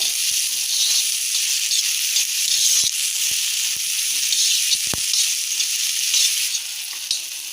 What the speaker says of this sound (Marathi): थोडासा टामॅटो परतून घ्यायचा